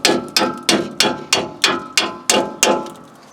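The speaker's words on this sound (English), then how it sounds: "I'm going to tap that bolt through it" Hammer tapping a bolt through a Nissan Titan strut, nine evenly spaced sharp metallic strikes, each ringing briefly before the next, close and loud with no talking.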